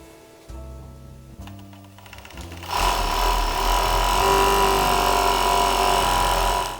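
A serger overlocking the edges of fabric for a reusable gift bag. After some brief mechanical clunks, a steady, loud, continuous whir runs close by for several seconds before stopping.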